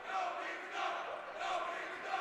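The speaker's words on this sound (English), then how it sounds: "the student body cheering section for the Kahawks getting a little riled up after that hit" The student cheering section for the Kahawks at a high school ice hockey game rises in waves of chanting and shouting, a moderately distant crowd roar that swells and eases.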